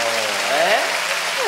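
Audience applause at a live anime fan event, a steady wash of clapping running through the moment while voices speak over it.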